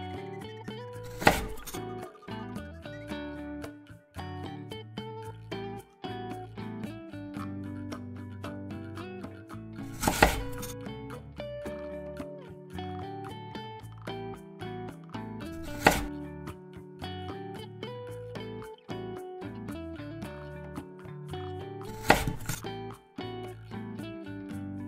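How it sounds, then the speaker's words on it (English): A man cuts broccoli with a knife, leaving four sharp, isolated chops spaced several seconds apart over soft background music. "Look at the man cutting."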